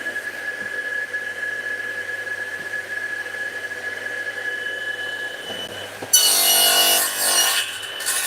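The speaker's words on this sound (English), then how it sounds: "because it's cutting in on the downstroke, it tends to hold the wood down to the surface" A hand saw cuts wood on the downstroke, starting with quiet faint rubbing and then breaking into a sharp, loud rasping burst of strokes near the end, close by and with no speech.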